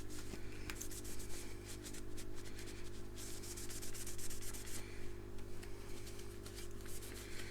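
A Dremel rotary tool grinds crud out of the plastic lens of a Hoover Junior Dirtsearcher vacuum, a steady motor hum under a faint, continuous scratchy abrasion.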